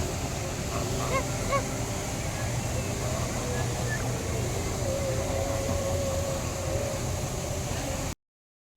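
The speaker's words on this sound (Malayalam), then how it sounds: "ഇത് നമ്മുടെ ഡൊമസ്റ്റിക് ഗൂസാണ്. അവയുടെ സൗണ്ടും കേട്ടോ." Domestic geese honk at a park lake in Abu Dhabi's Corniche, with scattered calls over a constant noisy outdoor background and some voices.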